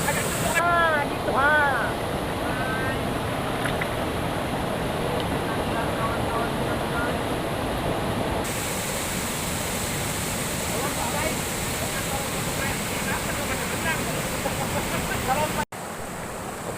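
Constant, full rush of river water flowing close by where people sit eating durian, with voices talking and exclaiming over it throughout.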